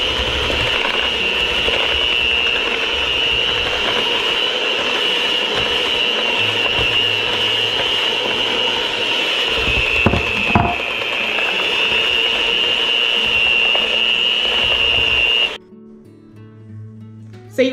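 Electric mixer beating flour into butter-and-sugar cookie dough for chocolate chip cookies, a steady loud whirring drone that runs on without a break and then drops away near the end.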